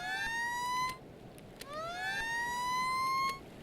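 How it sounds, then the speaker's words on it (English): A vehicle siren wails in rising and falling sweeps, loud and close, pausing briefly in the middle before resuming, with no talk over it. "Has a siren."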